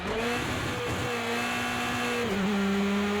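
Engine of a Honda Civic GRC RallyX rally car in Project CARS 2 on the Bannochbrae track, a steady, loud buzzing drone held at constant pitch that steps lower partway through, with no voices.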